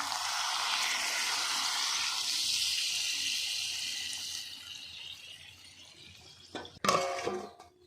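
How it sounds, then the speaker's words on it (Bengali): Water poured into a pot of browned, slow-fried meat curry, a steady broadband splash and rush lasting several seconds before fading, followed by a brief clatter of pot or utensil near the end. "আর এখন আমি জল দিয়ে দেবো।"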